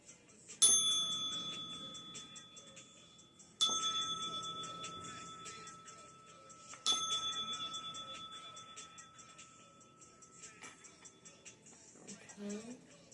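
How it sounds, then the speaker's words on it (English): A bell struck three times at a few-second intervals, each bright ring decaying slowly, quiet and close with soft background noise. "I'm going to be ringing that bell in 3, 2,"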